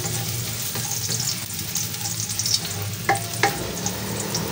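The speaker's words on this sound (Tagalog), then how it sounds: "pero po tayo ay igigisa po natin" Ginger and onion sautéing in a pan for a tilapia dish, a loud steady sizzle with a stirring scrape and two sharper clinks of the utensil near the end.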